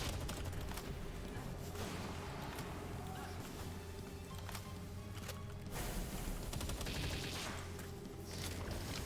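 Gunfire in a video game: a dense, rapid stream of shots fired in continuous bursts from a single weapon, loud and close, with brief gaps between the volleys.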